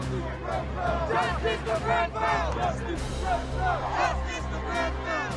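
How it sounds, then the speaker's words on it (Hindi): Thousands of people gather outside the US embassy in London, their many overlapping voices forming a dense, continuous roar of shouts and calls close by. "लंदन में हजारों की भीड़ की ये तस्वीर अमेरिकी एम्बेसी के बाहर की है।"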